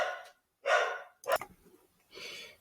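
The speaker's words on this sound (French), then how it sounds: "j'ai mon chien qui aboie" A pet dog barks indoors in a few separate bursts, moderately close and fairly quiet, with gaps of silence between them and no talk over it.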